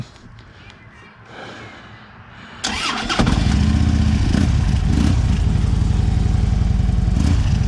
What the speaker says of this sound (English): All right, let's crank her up.